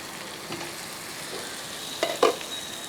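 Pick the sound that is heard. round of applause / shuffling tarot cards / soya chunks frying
soya chunks frying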